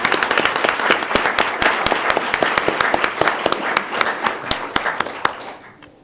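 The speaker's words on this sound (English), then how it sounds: "Let's give him another round of applause." Audience at a school board meeting gives a round of applause after a performance, a dense burst of hand clapping that thins out and fades toward the end, with little talk.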